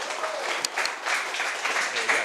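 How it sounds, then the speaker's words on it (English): Dense applause fills a room at a company get-together as colleagues welcome a new employee, with crowd noise and some voices mixed into the clapping. "Let's have a round of applause for Jonathan"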